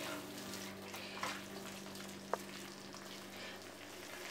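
Paneer tikka in gravy cooking in a pan, a faint, steady simmering sizzle with a couple of soft stirring knocks.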